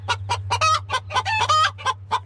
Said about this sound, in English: And then the rooster starts making his noise.